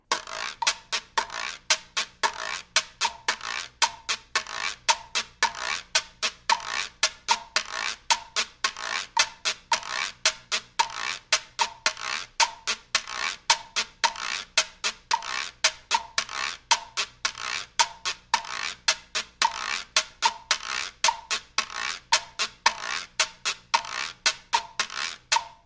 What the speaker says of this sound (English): Now the huido sounds like this.